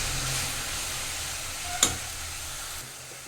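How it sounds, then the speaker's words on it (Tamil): A carrot and leafy-greens stir-fry is stirred in a pan, producing a steady sizzle and stirring noise with one sharp scrape partway through. "இதையும் கொஞ்சம் நல்லா கிண்டி இலக்கி விடணும்"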